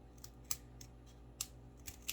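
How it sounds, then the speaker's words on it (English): Scissors make several sharp, close snips as the ends are trimmed off a craft piece, with quiet pauses between the cuts. "So all I'm gonna do is cut the ends off."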